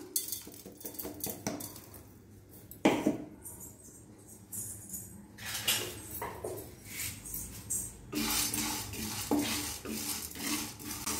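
Whole spices such as cinnamon, cloves and cardamom being dry roasted in an empty pan, with light scraping, stirring and clinking of a utensil against metal coming in uneven bursts for several seconds, close and moderately loud.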